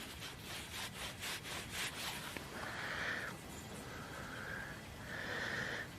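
Someone rubs an old metal tag recovered while metal detecting, giving several soft, scratchy strokes close by, followed by three brief squeakier rubs, all fairly quiet with no talk.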